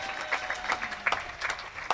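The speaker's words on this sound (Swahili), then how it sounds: "Piga makofi kwa jimbo la Temeke." Applause from a church audience at a bishop's address in the Temeke region: a steady patter of many hands clapping, fairly close and sustained, with no speech over it.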